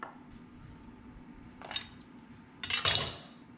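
A knife cuts through a lobster on a kitchen surface, two crisp scraping cuts about a second apart against a quiet background, each a short bright rasp with a faint clink.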